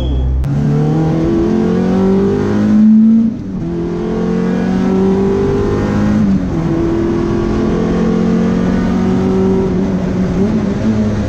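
Peugeot 205 GTI four-cylinder engine revving close up, rising and falling through repeated throttle blips on downshifts, loud and steady with no talking.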